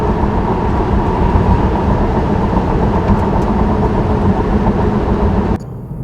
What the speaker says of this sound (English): Here's the cabin noise in my 2021 Model 3 long range at about 60